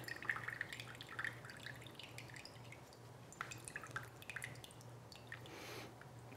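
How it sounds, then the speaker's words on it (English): Liquid from canned chickpeas drains through a strainer in a kitchen, giving quiet irregular drips and small splashes over a low steady hum, with no voices. "garbanzos draining. Get those kind of drained out. I want to drain the water"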